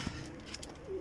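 Pigeons on a rooftop, giving a soft, low cooing call that rises and falls over about a second, fairly faint, with light background rustle.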